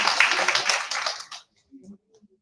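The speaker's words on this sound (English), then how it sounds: "everybody gives a round of applause to Professor Dr." Audience at an international postgraduate conference breaks into dense applause for a professor taking the stage. The clapping is loud and continuous for about a second and a half, then cuts off, leaving a few faint scattered sounds.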